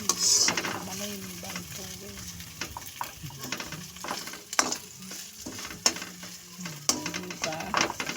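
Shrimp sauté in a hot pan for pancit miki, a steady sizzle broken by scraping, stirring clatters of a utensil against the pan, with a voice speaking now and then.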